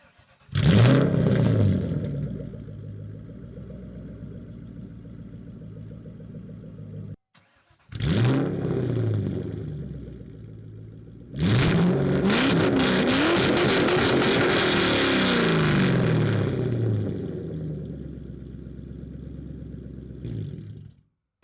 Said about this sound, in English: that's the exhaust sound